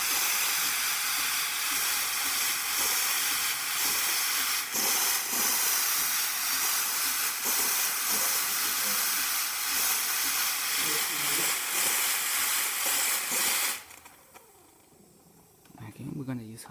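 Loud, steady hiss from the steam wand of a serviced Starbucks espresso machine after a full tune-up, running continuously for about fourteen seconds before cutting off abruptly, with faint handling noises afterward.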